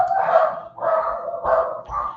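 A dog barks outdoors, several distinct mid-loud barks at an uneven pace, somewhat distant, with no talking over them.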